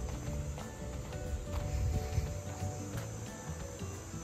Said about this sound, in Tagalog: Huni ng kuliglig.